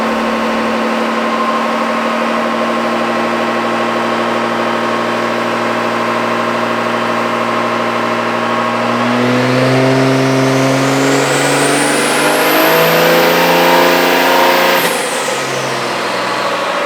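An 800-horsepower fifth-generation Cummins diesel truck engine on a dyno idles with a steady drone, then revs hard and climbs into a loud, rising whine before cutting off abruptly and winding down.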